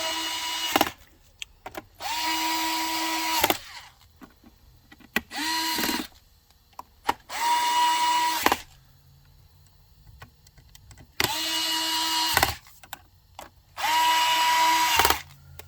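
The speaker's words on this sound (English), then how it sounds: "Now I'm going to bring the backside down. And I can tighten these screws up." A power drill driving screws into the front bumper of an iRobot Roomba S9 robot vacuum, in six short bursts of close, whining motor noise separated by quiet pauses.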